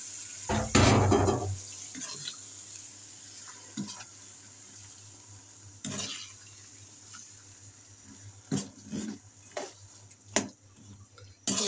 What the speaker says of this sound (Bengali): দিয়ে দিব একটু হালকা পানি।